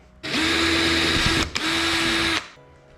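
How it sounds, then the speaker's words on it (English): A small power drill with a small bit whirs loudly up close in two bursts into a jon boat's wood side panel, steady high-pitched spinning with a brief pause between them. "just come back with a really small drill bit"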